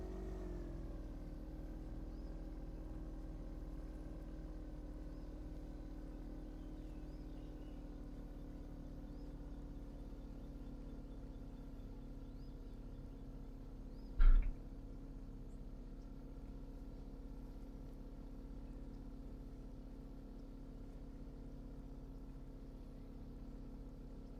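A bass boat engine in the video game Fishing Planet drones steadily at a low pitch, holding an even idle-like hum throughout with one brief sharp knock partway through.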